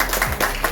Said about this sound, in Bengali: সবাই জোরে একটা হাততালি দেবেন।